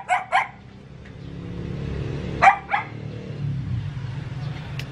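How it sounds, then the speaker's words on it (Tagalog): A dog barks outside in a few sharp, separate yaps: two quick ones at the start and another pair a couple of seconds later, moderately distant, over a low steady background hum. "Ang ingay ng aso sa labas."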